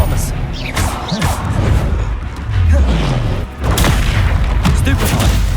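Spell impacts from Expelliarmus in the Hogwarts Legacy video game land as booming thuds and sharp cracks amid a busy combat mix, with shouted voices from the fight mixed in.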